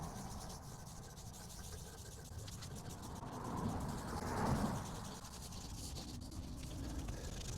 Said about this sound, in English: Wipe off all your excess.